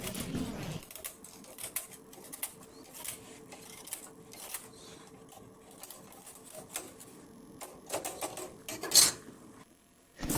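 Needles on a Silver Reed SK280 knitting machine are pushed along the needle bed with a pusher, making a run of quick, light plastic and metal clicks and ticks close by, with a louder clatter near the end.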